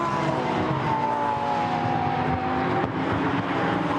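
Lamborghini Super Trofeo race car at Silverstone powering out of Luffield corner, a loud steady engine roar with rising and shifting gear tones through the whole stretch, no pause.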